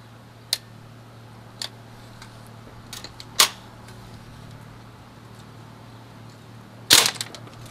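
Umarex M1A1 air gun firing single shots: a few sharp, short cracks spaced irregularly over a quiet steady hum, the last shot the loudest, with no speech.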